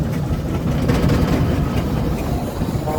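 A steady, low chugging rumble of a Garrett steam traction engine at a steam rally runs throughout, heavy and continuous at moderate distance with no voices.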